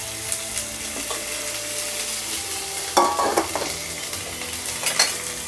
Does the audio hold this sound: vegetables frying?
yes